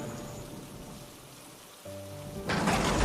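Heavy rain pours steadily in a forest, with a soft thunder-like rumble and a brief tonal passage before a louder surge of downpour near the end.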